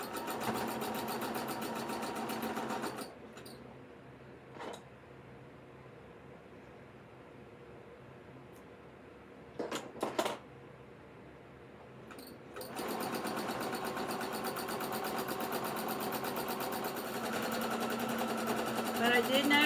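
Sewing machine stitching an ugly sweater wall hanging, running steadily for a few seconds, pausing with brief clicks and handling noises, then starting again and stitching continuously to the end.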